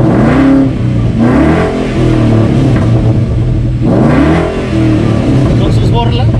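A Mustang with a Boss 302 V8 and a different manifold revs in bursts, loud and close, swelling and dropping twice over a steady rumble, with people talking over it.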